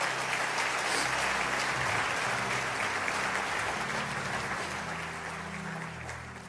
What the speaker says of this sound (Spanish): Si tú lo crees, dale otro fuerte aplauso al Señor.